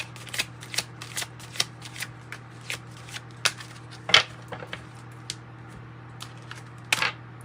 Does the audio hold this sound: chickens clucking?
no